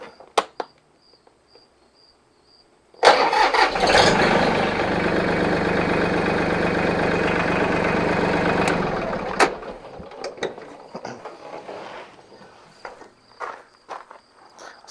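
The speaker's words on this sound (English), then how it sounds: "let's start the tractor up and bring it around" Mahindra tractor engine cranks over and catches, settling into a steady, fairly loud diesel idle for several seconds before cutting off, followed by scattered clanks and knocks nearby.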